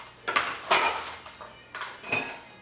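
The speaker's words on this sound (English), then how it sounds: "I got these two big cabbages and I'm chopping them up." Chef knife chopping through a big head of cabbage on a board, four or five crisp crunching strokes at an uneven pace, close and fairly loud.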